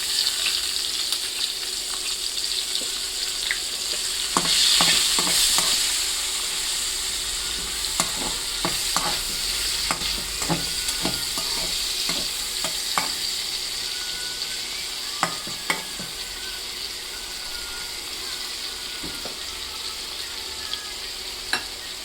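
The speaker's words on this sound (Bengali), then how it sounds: "এখন এখানে একটু পেঁয়াজ ভাজবো।" Onions frying in a pan of oil after fish, a continuous close sizzle with repeated spatula scrapes and stirring knocks, no voices.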